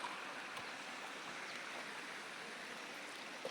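The Dumalon River stream in Tulungtong, Zamboanga City flows with a constant, even rush of water, close and unbroken, with no voices.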